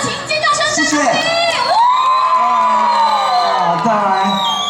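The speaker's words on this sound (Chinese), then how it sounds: "再用最热情的尖叫声跟掌声" A crowd at an outdoor year-end festival concert in Shengang, Taiwan screaming and cheering loudly, with high shrill shouts and whoops layered over a sustained roar.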